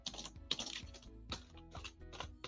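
A computer keyboard sits next to spilled coffee and is handled, giving bursts of close clicking and clattering keys with short pauses between them and no talk.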